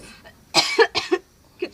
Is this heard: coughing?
yes